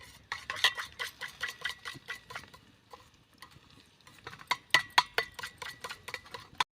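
Garam masala, red chilli and cumin powder being whisked together in a bowl, a fast rhythmic run of light clinking strokes that pauses briefly and resumes, close and clear without talk.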